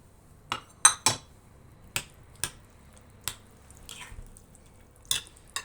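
A spoon knocks and clinks against a bowl while milk, oil and spices are stirred together: a few sharp, close clicks come at irregular intervals, with quiet gaps between them and no talking.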